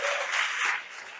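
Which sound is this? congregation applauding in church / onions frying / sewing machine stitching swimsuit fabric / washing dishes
congregation applauding in church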